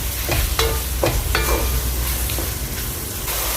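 Beef keema with tomato puree fries while being stirred, a loud steady sizzle broken by a handful of rhythmic scraping strokes of a spoon against the pan, heard up close without speech.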